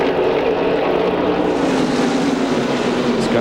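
A NASCAR stock car engine roars steadily from the in-car camera during the 1996 Pepsi 400 at Daytona, a loud continuous drone with no break throughout.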